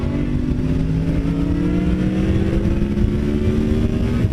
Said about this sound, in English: Third gear, 40 mile an hour. Roll on.